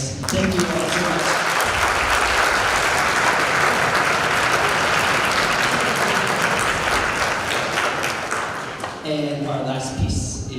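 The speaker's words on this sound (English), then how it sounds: "give a massive round of applause to everyone on that list" Applause from the audience at a school STEM band concert, a dense, steady clapping that fills nearly the whole stretch, dropping away near the end as a voice returns.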